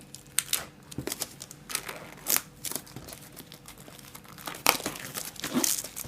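Pokémon card packaging is torn open, with a crinkly plastic wrapper crackling and rustling in irregular bursts and sharper tearing snaps, close to the ear, without speech.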